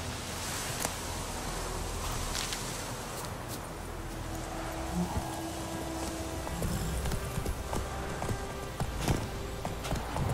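Roach, a horse in The Witcher 3, moves on hooves with steady clip-clop footfalls under a continuous ambient wash, moderately close and fairly quiet, with no talk.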